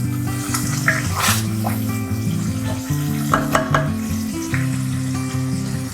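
Vegetable asam pedas cooking in a claypot, a loud close sizzle and bubbling with occasional stirring clatter, running steadily under a low hum.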